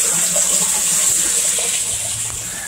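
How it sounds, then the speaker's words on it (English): Water gushes and drains steadily into a 375-gallon IBC container buried underground as an aquaponics sump tank, with a constant close hiss of flowing water and no talking. "that water drains out here, comes out, goes underground, and it goes over here into this 375 gallon IBC container that I have buried in the ground"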